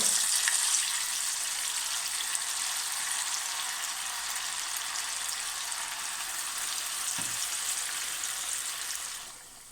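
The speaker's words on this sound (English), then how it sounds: "So in goes the tofu, nice and dry." Steady, close frying hiss from tofu cooking in hot oil in a pan for a Vietnamese golden tofu curry, holding constant for several seconds before cutting off abruptly.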